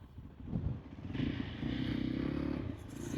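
A motorbike is ridden along a coastal road between Lamu and Malindi, with a steady engine drone that swells as it pulls and is mixed with road and wind noise.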